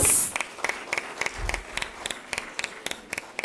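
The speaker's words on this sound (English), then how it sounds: "give Ms. Bula Alphonse a big round of applause" An audience at an HR session claps in sparse, distinct individual claps spread across the room, fairly quiet and irregular, with a louder burst at the start.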